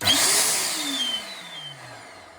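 A 1000W dental vacuum forming machine's suction kicks in with a loud rushing hiss that gradually fades as it runs, close by, with a descending whine beneath the airflow and no talk.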